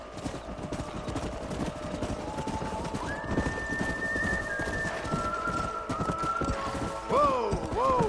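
Horses clip-clop at a steady trot in the Western video game Red Dead Redemption, hooves thudding close and continuous, with rising whinnies and neighs near the end.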